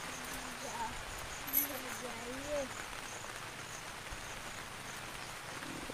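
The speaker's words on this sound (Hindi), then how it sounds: "देखिए पूरा बारिश हो रहा है, पूरा बाहर में बारिश दिखाई दे रहा है" Rain falling outdoors under heavy cloud, a soft, steady hiss that stays faint and constant throughout, with someone talking over it.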